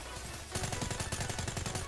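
Suppressed gunfire from a gun in Black Ops 3 rattles out in a rapid automatic burst after a quiet half second, dense, close and continuous to the end.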